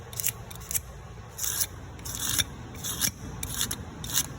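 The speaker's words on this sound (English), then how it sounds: "I'm trying not to take anything off the mold, but I'm burnishing it" A mold is burnished with a tool, giving repeated short, bright scraping strokes in an uneven rhythm, close and moderately loud, with no talk.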